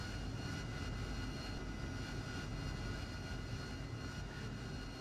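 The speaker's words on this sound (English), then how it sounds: "Release the parking brake and increase the throttle to taxi." A Harrier jet in the DCS flight simulator builds engine power to taxi, a loud, steady, close roar of dense turbine noise that holds evenly without breaks.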